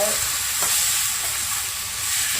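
Prawns for a prawn curry are stirred and fried in a pan, giving a loud, close, continuous hissing sizzle with soft stirring movements underneath.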